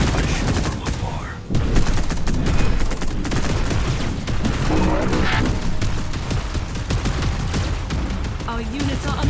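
Units firing in the strategy game Zero Space produce dense, continuous bursts of rapid gunfire and explosive booms, loud and layered throughout with no letup.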